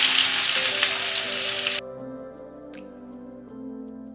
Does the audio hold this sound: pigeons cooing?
no